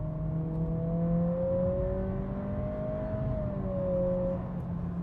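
A 2025 Acura ADX compact SUV with a CVT and paddle shifters accelerates toward redline, its engine note holding a steady droning pitch that rises gradually before easing off slightly, heard from inside the cabin with no talk.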